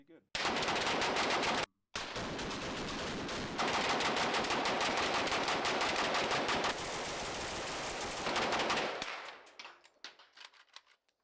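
AK-variant rifle firing long automatic bursts at beer cans on a ranch, rapid close loud shots in a dense continuous stream with a short pause early on, then tapering off into scattered echoes and quiet.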